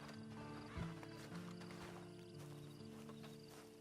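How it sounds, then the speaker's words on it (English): A horse in the Red Dead Online video game snorts and whinnies over a few clip-clop hoofbeats, all set against a steady game music and ambience bed. "Then you better get on this horse."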